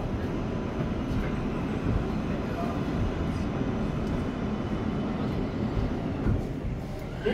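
A Queensbound 7 local train on the New York City subway rolls along with a steady, loud rumbling drone and rattling carriage noise, heard from inside the car without a break.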